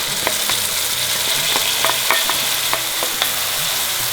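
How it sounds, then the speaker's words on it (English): A masala of ginger, garlic and leftover marinade juices fries loudly in a pan for a parwal sabzi, a steady close sizzle punctuated by quick clicks and scrapes from stirring. "And now let this fry for a couple of minutes before we add the tomatoes."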